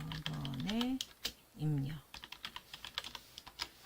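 Computer keyboard keys clicking at close range in a short uneven burst, sounding behind a voice that speaks at the start, during an Excel 2016 lesson.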